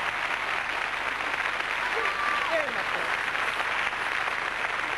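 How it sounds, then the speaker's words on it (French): A French television variety show audience in 1988 applauds steadily, a thick continuous roar of clapping throughout, with a voice briefly speaking partway through. "On applaudit"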